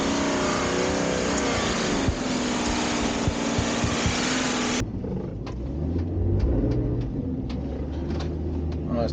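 An Ineos Grenadier 4x4 in low range with the centre differential locked grinds steadily uphill over off-road terrain, a loud continuous engine drone that drops to a lower, rougher rumble with scattered knocks partway through.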